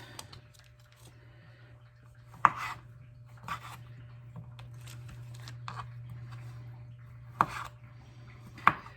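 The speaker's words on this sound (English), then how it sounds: "I'm just going to take each one, kind of slice them like that" A knife slices food on a cutting board for a steak dinner, with a few sharp, sparse cuts and soft clicks over a low steady hum.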